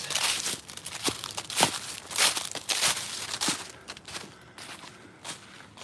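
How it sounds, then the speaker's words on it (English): Dry leaves crunch loudly under boots in a steady walking rhythm while walking uphill through a forest, close and crisp, with no talking. "all the leaves crunching on my boots."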